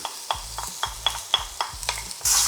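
Garlic, ginger, pimento and celery sauté for a vegan red kidney bean stew, with rapid rhythmic stirring taps against a pot over a light sizzle and a louder hiss at the end.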